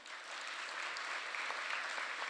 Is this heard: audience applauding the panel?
yes